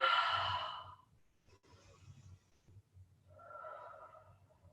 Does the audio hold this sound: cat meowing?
no